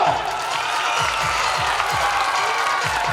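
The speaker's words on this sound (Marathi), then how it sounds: "सर्व कोरिओग्राफरसाठी एकदा जोरदार टाळ्या" An audience at a school annual gathering applauds students, teachers and choreographers, a broad crowd roar of clapping and cheering with a steady rhythmic low thump running beneath it.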